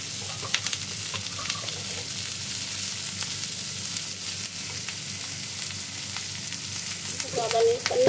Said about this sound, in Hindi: सॉटे कर देंगे